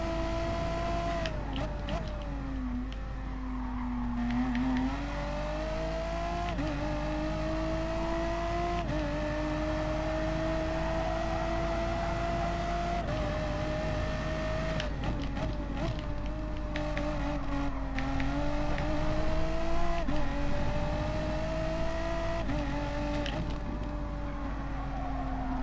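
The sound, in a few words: race cars driving on track in Gran Turismo Sport video game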